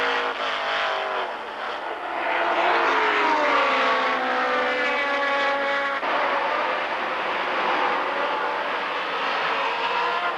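Can-Am race cars at Lime Rock in 1985 roar past on the front stretch, a loud, continuous engine howl rising and falling in pitch as cars pass and shift, close and dominant with no voices.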